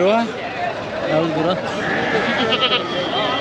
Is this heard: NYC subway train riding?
no